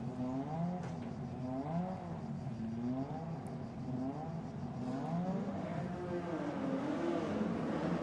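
Lotus Cup race cars pull away from the grid at Imola for a formation lap, a dense, steady engine drone with wavering pitch as several cars rev and move off together at a moderate distance.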